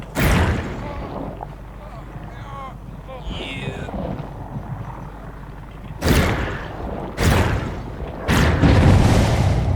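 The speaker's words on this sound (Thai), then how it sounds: "กินระเบิดตรงไหน" Bomb explosions boom in the Dead by Daylight video game, three heavy bursts in quick succession near the end after rumbling game ambience, with voices talking over the sound.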